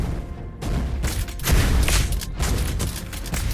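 Rapid gunfire bursts from a mobile battle arena game, loud and close, with dense overlapping shots and booms running almost continuously.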